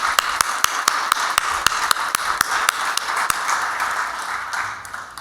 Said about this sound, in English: I would like us all to give them just a round of applause